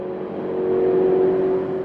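A racing car from the 2004 Le Mans 24 Hours sweeping through the first chicane, its engine a steady, loud droning whine that swells slightly and holds for the whole short stretch.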